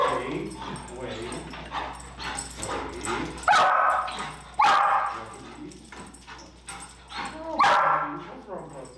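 An over-stimulated, anxious chocolate Labrador gives several sharp, loud barks mixed with high whines and yips, close by, while people talk throughout.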